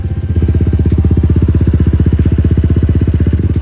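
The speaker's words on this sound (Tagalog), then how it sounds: "Mainitin na natin itong makina mga best friend." A Honda ADV160 scooter engine idles steadily as it warms up after an oil change, a close, loud, even putter with a fast regular pulse throughout and no voices.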